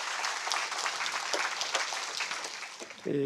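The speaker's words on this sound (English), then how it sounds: "Applause." Audience applauding at the close of a talk on treated nuclear plant water, a soft, even patter of many hands at moderate distance, fading near the end.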